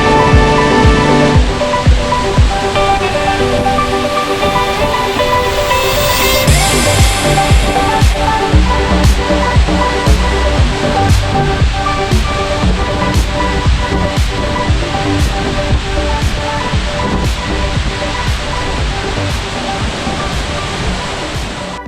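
Abe Otaki waterfall in Shizuoka roars as a loud, continuous wash of falling water, with some brief clicks and handling noise over it and no speech.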